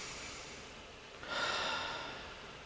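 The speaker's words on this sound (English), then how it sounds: "When I do this, I'll be breathing quite strongly, so you'll hear me go." A single strong, deliberate breath during breath-counting meditation, a soft airy rush that swells and fades, close to the microphone in a quiet room.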